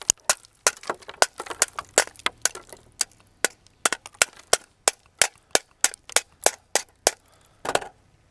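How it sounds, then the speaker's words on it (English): Rifle fired repeatedly at a target beside sandbags, around twenty sharp loud cracks in a steady rapid string with brief gaps, close and dominant, no talking. "quickly walked it over to the sandbags and shot it again, actually breaking some of the ice off of it"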